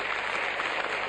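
Brief burst of dense audience applause for a singer, a steady wash of clapping heard alone for about a second.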